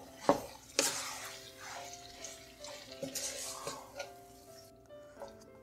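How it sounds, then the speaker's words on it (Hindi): A spoon stirs chicken biryani masala with tomatoes, green chillies, nutmeg, mace and garam masala in a metal pot: soft wet scraping broken by several sharp clinks against the pot, close and fairly quiet. "और मिक्स कर लेंगे।"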